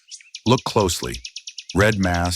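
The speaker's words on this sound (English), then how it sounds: "The European goldfinch, Jordan's little spark of melody" A European goldfinch in Jordan gives bright, rapid twittering chirps in a quick series. The song runs beneath a close, clear voice that speaks over most of it.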